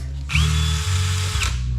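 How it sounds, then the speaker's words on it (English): A power drill whirs up to a steady high-pitched spin, holds for about a second, then dips and revs again, loud and close. "Do you want me to show you how fast this drill goes?"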